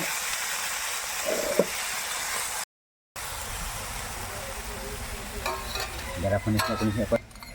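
Marinated gravy of sour yogurt with ground cumin, coriander and black pepper sizzling in a hot pan, a steady hiss broken by a short gap, with stirring clatter near the end.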